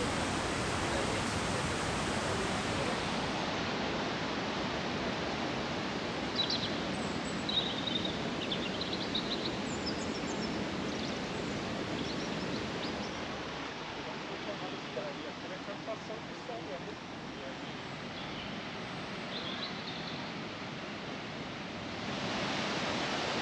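Swallow Falls at Betws-y-Coed roars as a steady, dense rush of cascading water, continuous and fairly close, with a faint voice over it.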